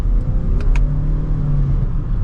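A 2025 Toyota Crown Signia XLE hybrid crossover accelerates hard in sport mode, its engine hum and road rumble steady and close inside the cabin, with brief whirring rises as it pulls.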